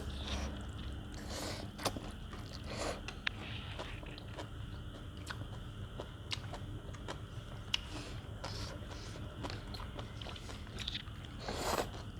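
Pork noodles with crispy pork rinds being eaten up close, scattered crunchy bites and soft chewing with occasional slurps against a quiet background.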